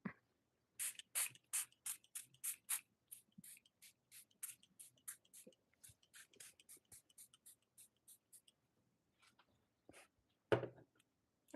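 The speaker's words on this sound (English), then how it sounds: "let's do barrier spray" Makeup barrier spray hisses from a pump bottle in a fast run of about a dozen short, close bursts, then a few sparse sprays and one longer, louder blast near the end, with no talking.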